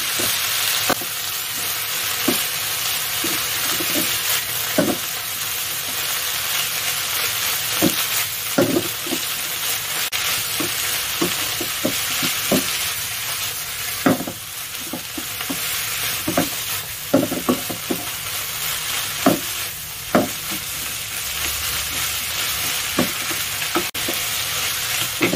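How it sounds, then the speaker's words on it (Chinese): A big wok of vegetables stir-fries for a long stretch, with a continuous sizzle under repeated clanks and scrapes of the spatula arriving at an uneven, unhurried pace. "要慢慢将佢炒软佢"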